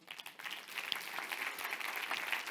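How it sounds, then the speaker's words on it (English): Audience applause at a life science and innovation conference session, steady dense clapping from a crowd sustained throughout at moderate level. "One more round of applause."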